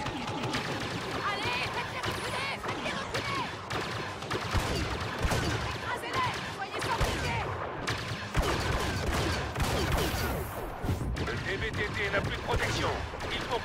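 Gunfire from a gun in the Star Wars Battlefront video game, a dense, unbroken battle din of rapid shots and blasts stacked on one another, with a voice mixed into the chaos.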